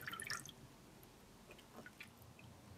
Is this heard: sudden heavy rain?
no